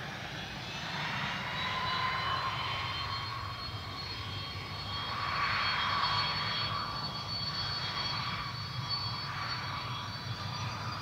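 A Virgin Australia Regional jet airliner taking off from runway 03 at Perth Airport, giving a steady, loud engine roar with a high whine that swells in the middle and holds to the end, heard from a distance.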